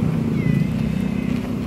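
A cat mewing briefly, a short thin cry partly covered by a low steady rumble, close by, with a person's voice nearby.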